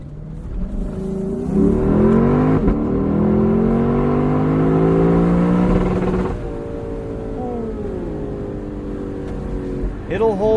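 Lexus engine revving hard against its rev limiter, paired with a 10-speed automatic: a loud, sustained, bouncing high-rpm wail with harmonics climbing and holding, then settling lower and revving again near the end.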